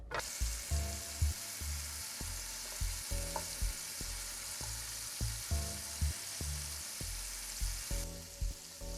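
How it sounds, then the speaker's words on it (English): Shrimp frying in hot oil left in a pan, a steady loud sizzle broken by repeated sharp clacks of stirring or a utensil against the pan, with no talking. "I want to cook my shrimp in this same oil."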